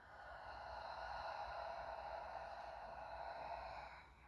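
A single long, soft exhale during qigong breathing practice, a steady breathy rush lasting several seconds before tapering off, quiet and close with no talking.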